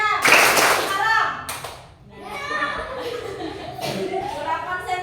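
Children in a classroom clap along in a call-and-response clapping game, with bursts of hand claps mixed under loud young voices calling out between the beats.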